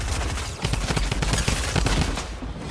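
Rapid bursts of gunfire from Fortnite Chapter 2 Season 3, dense and loud, sustained over a couple of seconds with overlapping shots and no voices.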